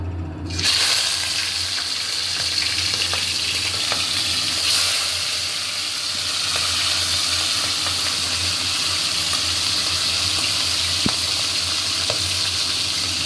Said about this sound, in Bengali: এবারে কড়াই দিয়েছি তেল। এবারে মাছগুলো ভেজে নেব।